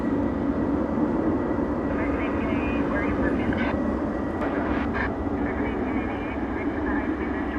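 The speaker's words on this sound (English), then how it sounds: "It's a 31-year-old plane." A 31-year-old jet airliner built in 1992 rumbles at DFW Airport at night, its engine noise a steady, broad roar filling the whole stretch, with faint higher whines drifting in partway through.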